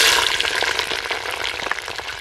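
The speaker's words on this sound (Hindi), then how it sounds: "प्याज को नरम होने तक फ्राई कर लेंगे।" Chopped onions fry in hot oil in a kadai, giving a loud, steady sizzle with crackling pops and light stirring scrapes throughout.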